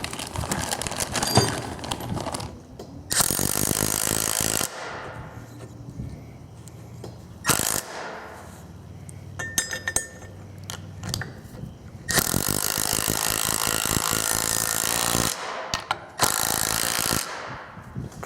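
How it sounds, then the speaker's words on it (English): A Milwaukee nut driver runs in several loud ratcheting, whirring bursts while a DIY popper-plate target stand is assembled, with clanking metal handling and pauses between runs. "That Milwaukee nut driver is nice"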